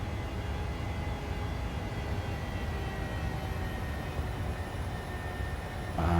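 Jet engines of a PMDG Boeing 737-600 in a flight simulator drone on in flight as a steady, low, broadband roar at constant level, with no talk.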